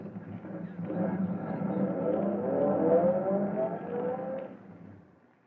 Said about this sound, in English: Pull up alongside that police car waiting for us there at the call box.